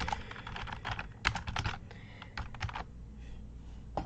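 Typing on a computer keyboard: bursts of quick, close key clicks with short pauses between, alone with no talk.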